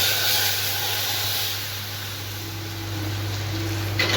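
Hot tadka tempering poured into Punjabi kadhi gives a steady hiss and sizzle that eases slightly midway, with a low hum underneath and no talking.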